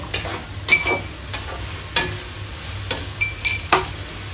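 Chinese-style shrimp with cornflour slurry stirred in a pan, with sharp clinks and scrapes of a utensil against metal every half second or so over a low sizzle, close and loud.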